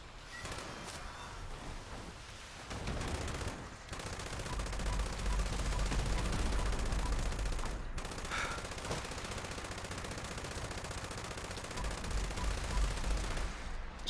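A light machine gun fires in Fallout 76, sustained rapid bursts forming a dense rattling stream, with brief pauses between longer strings of shots.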